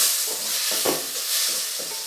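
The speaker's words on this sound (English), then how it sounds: "Saute this for a while" Onion and chopped tomato sautéing in a pan for a Goan pomfret caldine, a close, hissing sizzle with a few soft stirring bumps at a gentle, uneven rhythm.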